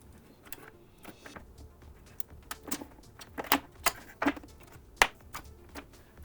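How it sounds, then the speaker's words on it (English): Cables are pulled from the back of a desktop PC, giving a scattered series of sharp plastic clicks and small knocks, close and fairly quiet, with rustling between them. "And I got a lot of stuff to unplug."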